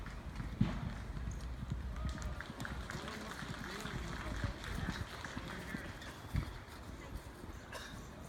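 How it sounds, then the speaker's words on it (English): A horse carrying a rider walks at a Civil War reenactment event, its hooves thudding in an uneven rhythm under steady outdoor crowd noise and people talking nearby. "Now we have Al riding her horse Mac"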